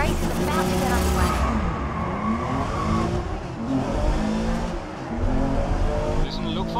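Race cars in the video game Race Driver Grid roar off at a race start, engines revving hard with tire squeal and skidding in a dense, loud pack, while a voice talks over the noise.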